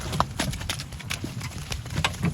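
Hooves clip-clop steadily on a hard surface as a mare walks close by, a brisk repeating rhythm with background noise.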